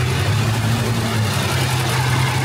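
A 1942 Jeep Willys engine idles steadily, a loud, close, low rumble holding an even note throughout, no talk.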